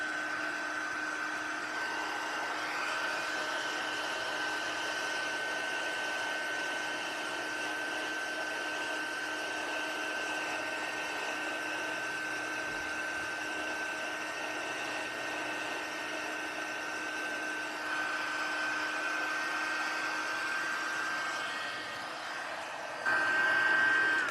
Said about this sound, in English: Apparently, I have to have the heat tool in my left hand.